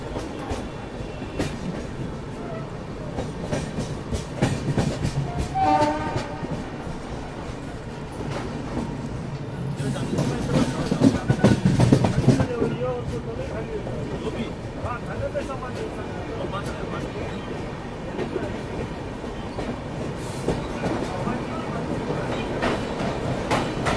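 The Hasdeo Express rolls through Raipur railway station, its wheels clattering steadily and swelling louder midway, with voices talking faintly beneath the rumble.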